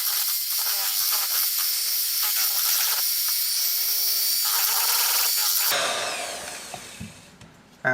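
An electric mixer whirs loudly and steadily as it beats eggs into cheesecake batter, then its tone shifts and tapers toward the end as the beating slows.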